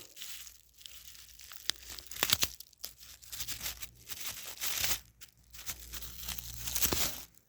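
Small scissors cut away excess wrapping from bee candy packaging, producing irregular bursts of crinkling and tearing plastic, close and fairly quiet, with short pauses between cuts.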